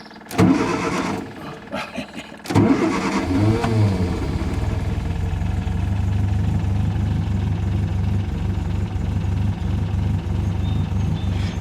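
An MGA car's engine is started with a pull starter cable. It cranks briefly, catches with a loud burst, and settles into a steady, rumbling idle that runs close and uninterrupted to the end.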